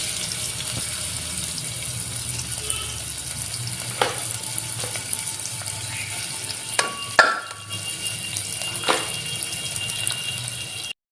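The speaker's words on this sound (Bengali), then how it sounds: "প্রেসার কুকারে প্রথম দিয়ে দিলাম সরিষার তেল, তারপর দিয়ে দিলাম আমি পেঁয়াজ কুচি" Chopped onion fries in mustard oil inside a pressure cooker, a continuous close sizzle broken by a few clinks and scrapes of stirring, with no one speaking.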